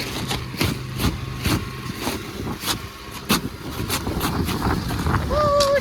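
Gusty wind roars and buffets the microphone in a Cape Breton snow storm, rising and falling in broad surges across the whole stretch, with faint voices and a brief whistling tone near the end.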